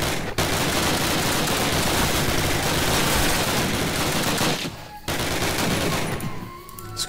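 Automatic weapon fire in a Call of Duty battle, loud and sustained bursts of rapid gunshots almost without pause, briefly cutting out twice before trailing off near the end.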